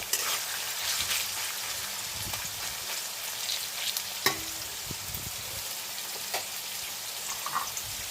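Potatoes frying in a pan for vegetarian chow mein, a steady soft sizzle with occasional spatula taps and scrapes, fairly quiet and continuous.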